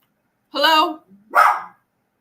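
A dog agitated by painting work in a neighbouring apartment lets out two loud, close barks about a second apart, with silence before, between and after.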